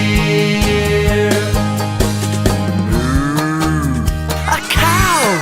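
A cow moos in a long, drawn-out call over a bouncy children's nursery-song backing with steady beat and melody, the moo rising and falling across the final seconds.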